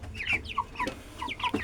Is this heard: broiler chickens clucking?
yes